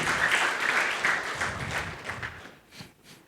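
A church congregation at a worship service bursts into loud applause, with dense clapping that is strongest at first, then thins and fades over a few seconds.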